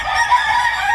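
A breeding gamefowl rooster on a small farm in Tiaong, Quezon crows in a loud, close, sustained, raspy call with no talking over it.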